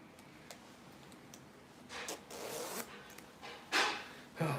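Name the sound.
zipper on a sewn blazer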